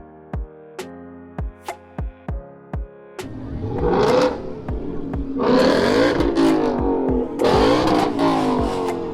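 At a street car meet, a Dodge Challenger and an EcoBoost Mustang rev hard. A series of sharp, evenly spaced engine blips gives way to long, loud, roaring revs close by.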